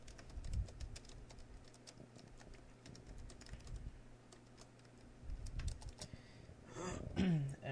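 Quiet, scattered keystrokes come from code being typed on a computer keyboard, arriving in small irregular bursts over faint background noise.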